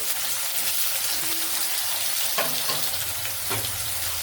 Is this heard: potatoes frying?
yes